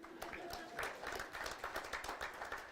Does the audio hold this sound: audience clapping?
yes